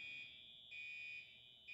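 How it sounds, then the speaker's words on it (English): A high electronic alarm beeps in the background of a radio studio, a faint steady tone pulsing on and off in long even cycles. "There's an alarm going off in the background."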